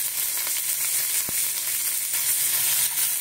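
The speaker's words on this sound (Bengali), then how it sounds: "তেল দিয়ে এবারে সর্ষে ফোড়নটা দিলাম," Mustard seeds and curry leaves sizzle steadily in hot oil, a dense, continuous frying hiss close up with a single brief click partway through and no talking.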